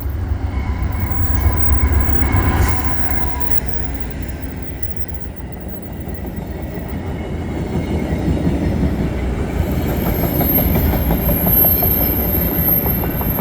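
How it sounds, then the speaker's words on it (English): A westbound Via Rail passenger train rumbles past close by at Dorval, its wheels clattering steadily over the rails, with a high metallic squeal rising near the end. "another Via train heading west"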